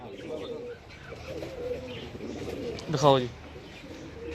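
A pigeon coos once in a short rolling burst among people talking nearby, part of a pigeon show where birds are handed around and photographed.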